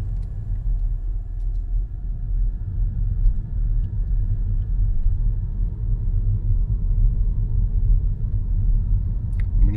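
A car drives downhill on a road above the fishing town of Arguineguin on Gran Canaria, giving a steady, loud low rumble of engine and tyres throughout with no one talking.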